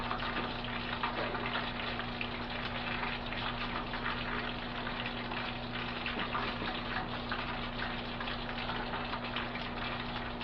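Fish fillets frying in hot oil, a continuous dense sizzle and bubbling crackle at steady loudness with no voices.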